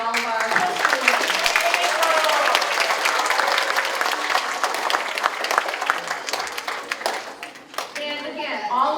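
Applause for poster winners at a fifth-grade DARE graduation, a school crowd clapping loudly and steadily, thinning slightly near the end as voices begin to emerge.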